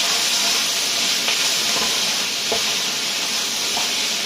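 Szechuan pork sizzling in a hot pan with salt, sugar and MSG, a loud steady hiss of frying that runs the whole time, with faint clinks and stirring noises now and then.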